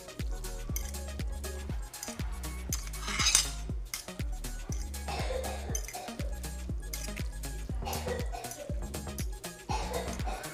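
A fork stirs chicken seasoning in a dish, making a steady run of rapid metallic clinks and scrapes against the bowl, close and fairly loud.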